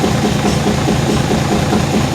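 A heavy engine idles just after start-up, a loud, steady low rumble with even vibration and no talk over it.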